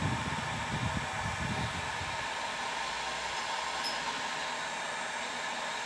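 A heat gun or hair dryer warms a dresser joint to soften the glue, a steady loud whooshing blow with a low rumble at first that settles into an even hiss.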